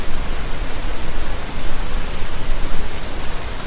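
Heavy rainfall pours down in a dense, continuous hiss, loud and close, with no voices.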